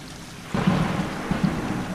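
Heavy stormy rain pours steadily in the video game Stray, joined by a deep rolling rumble of thunder that swells midway and stays loud to the end.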